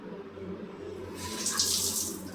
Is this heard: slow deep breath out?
no